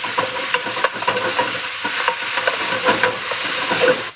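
Greens hit a hot pan and sizzle loudly and continuously, with rhythmic stirring clicks and scrapes across the whole stretch and no speech.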